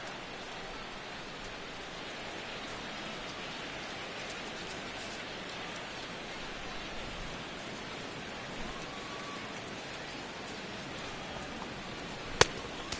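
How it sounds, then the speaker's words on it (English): Heavy, intensifying rain falls at a night baseball game in MLB The Show, a steady dense hiss that runs without a break, with no voices over it. "And this rain is intensifying now. This is as hard as it's come down all night."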